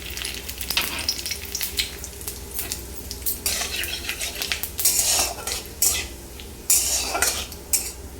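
Whole cumin seeds and a bay leaf sizzle in hot oil for tempering, a steady close crackle broken by sharp bursts of spitting and scraping pan noises, with no talking.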